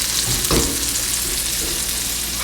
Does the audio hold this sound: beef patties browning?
yes